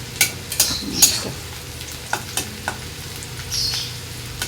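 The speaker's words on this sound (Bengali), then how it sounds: "তো একটু লাল লাল করে ভাজা হোক" Onion fries in a pan with hot oil while being stirred: a soft sizzle runs underneath, broken by several sharp scrapes and clicks of the spoon against the pan, with no talking.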